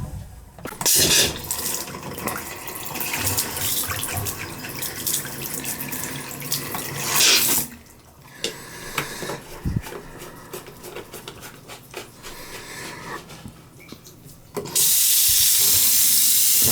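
A household faucet runs after a plumbing repair that fixed low water flow. A steady rushing stream plays close and loud, dips briefly midway, then surges into a stronger, fuller gush near the end, with no talking.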